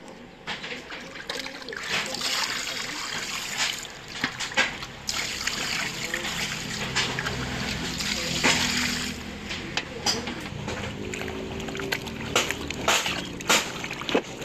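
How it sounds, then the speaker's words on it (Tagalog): Pig intestines being washed in water for Ilocos sinanglaw: continuous close sloshing, trickling and splashing with frequent sharper splatters throughout. "lilinisan muna natin mga kapanglaw"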